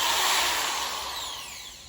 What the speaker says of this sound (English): Drill out the holes,